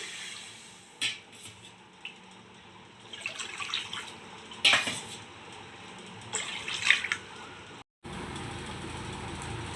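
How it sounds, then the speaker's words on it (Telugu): Water pours and splashes into a pan in a few short bursts, with a low background hum and quiet gaps between. "ఇప్పుడు మూడు కప్పుల వాటర్ పోస్తున్నాను"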